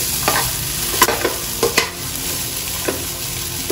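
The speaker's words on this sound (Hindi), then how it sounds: "इसे मिक्स कर देंगे" Vermicelli upma with peas and sweet corn being stirred in a pan, the spoon scraping in several distinct strokes over a steady close sizzle, with no voices.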